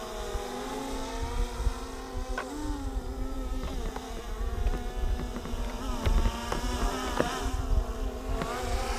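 A Hubsan H109S quadcopter drone whines steadily from its motors while it yaws, a close, continuous tonal buzz with shifting pitch and a few sharp ticks over wind noise.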